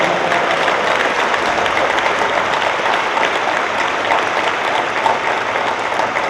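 Sustained audience applause fills a homecoming convocation at Albany State University, a dense, steady wash of many hands clapping at even loudness throughout, with no pauses and no voices rising above it.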